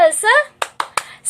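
Children's rhythmic clapping cheer, with a child's sing-song chanting followed by three sharp, evenly spaced hand claps, close and loud.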